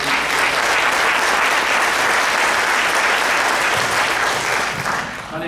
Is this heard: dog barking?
no